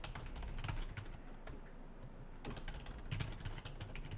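A root password is typed on a computer keyboard during cloud server setup, a quick irregular run of soft key clicks up close with a short lull midway.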